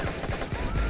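Rapid gunfire in the video game Watch Dogs crackles in quick bursts, loud and close, a volley of shots filling the whole second without any talk.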